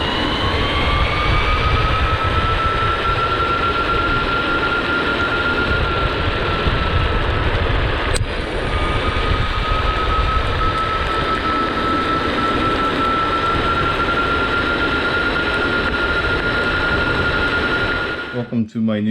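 A Meepo Hurricane electric skateboard's gear drive runs before maintenance, giving a steady loud mechanical whine with a sustained tone throughout and a brief tick partway through, then cutting off abruptly at the end.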